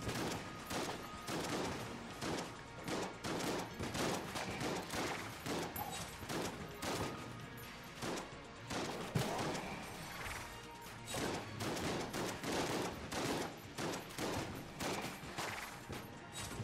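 Explosive-round shotgun fire in the video game Enter the Gungeon, a rapid, dense barrage of blasts and crashing bursts repeating almost continuously, loud and close with no talk.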